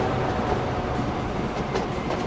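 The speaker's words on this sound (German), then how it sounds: "da ist doch tatsächlich schon eine Lokomotive drin" A locomotive from the Train Fever video game runs along the track, giving a continuous rumbling rolling noise with faint rhythmic clicking, steady and moderately loud with no voices.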